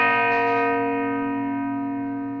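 A single sustained tone from a carillon of large bronze bells, spanning over four octaves and weighing from 28 to 6,550 pounds, hangs rich and loud, its overtones slowly fading with no voices.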